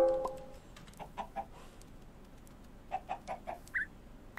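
Short clucking calls from a chicken in Minecraft come in two small bursts of three or four clucks, separated by a pause and heard alone against quiet game ambience.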